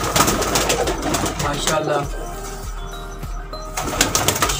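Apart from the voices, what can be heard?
Sialkoti pigeons cooing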